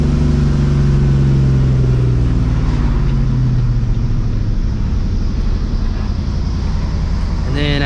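A supercharged New Edge Ford Mustang GT V8 engine rumbles loudly and close by at a steady idle-to-low rev, a continuous throaty drone with a faint whine, briefly rising near the end.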